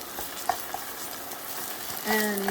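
Sauce for fusilli alla vodka being stirred in a pan, a low steady sizzle broken by a couple of light utensil taps, then a brief tonal squeak near the end, close and quiet with no speech.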